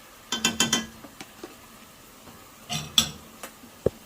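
Metal utensil stirring sautéed mushrooms and onions with sweet red pepper in a pan, a quick run of clinks and scrapes near the start, then scattered taps, a second cluster of clinks and one sharp knock at the end.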